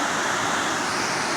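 Waterfall on West Creek at Tuxedo Falls in Brooklyn Heights, Ohio, a long slanting cascade in the creek, giving a loud, steady broadband rush of falling water close by.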